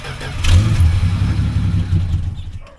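The engine of a 1967 Plymouth Valiant catches after a brief crank and runs loud and rough up close, rumbling unevenly before easing off toward the end.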